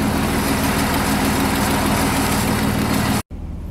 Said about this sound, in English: I'm going to leave the engine running